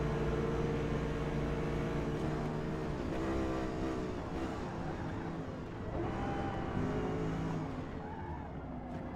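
A C8 Corvette racing at Le Mans in Forza Motorsport, its engine droning loudly and steadily with rising and falling revs as gears change, joined by other cars on the circuit.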